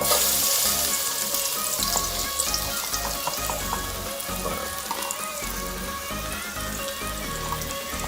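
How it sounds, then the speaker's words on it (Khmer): Garlic and shallots fry in hot oil for a fermented soybean pork stir-fry, a loud continuous sizzle with occasional stirring scrapes heard up close. "ក្តៅហើយយើងដាក់នេះចូល ដាក់ខ្ទឹមយើងនេះខ្ទឹមសខ្ទឹមក្រហមដាក់ចូល"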